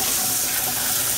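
Liquid poured out into a kitchen sink while cooking shrimp creole, a steady, close splashing rush that runs without pause and with no talk.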